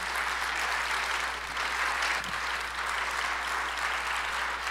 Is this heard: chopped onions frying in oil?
no